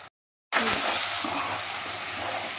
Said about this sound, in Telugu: అల్లం పేస్ట్ వేసేసుకున్నా, కొంచెం మగ్గాలండి.